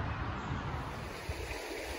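Water rushes steadily along a stream near a mill on a hiking trail, a continuous broadband wash that sounds fairly close and fills the whole moment with no voices.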